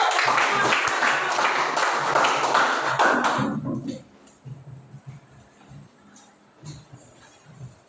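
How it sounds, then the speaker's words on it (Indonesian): Classroom applause for a presenting student group, a burst of clapping for about three and a half seconds before it cuts off, followed by quiet room noise and a few faint taps. "kita berikan tepuk tangan dulu"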